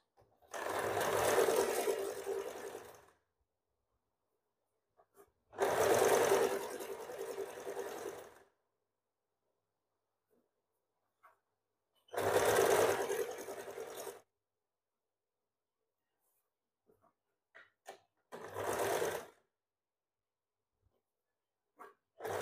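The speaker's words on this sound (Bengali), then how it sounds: "হাতাও আমি প্রথম মেশিনে সেলাই করছি, পরে হেম করব কমপ্লিট করার পর।" A sewing machine stitching the sleeve of a blouse, running in four loud, close bursts of a few seconds each separated by silent pauses, with faint small clicks in between.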